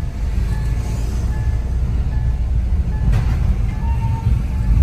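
A train rumbles along near the railway station bridge at Katpadi, a steady low roar and rattle of rail wagons heard from a car passing beneath, continuous and fairly loud throughout.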